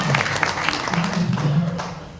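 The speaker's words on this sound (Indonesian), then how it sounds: "Tepuk tangan Ibu." An audience at a Buddhist sermon breaks into a short burst of applause, heard as a dense wash of clapping with voices talking underneath.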